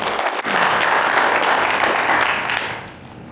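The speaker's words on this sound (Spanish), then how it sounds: "los felicito a todos con un gran aplauso por invitar a sus vecinos musulmanes aquí" Loud, dense audience applause inside a church, a close, steady roar of many clapping hands that swells quickly and eases off slightly toward the end.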